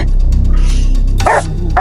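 A dog barks sharply a couple of times nearby, short loud yaps breaking through a low rumbling background.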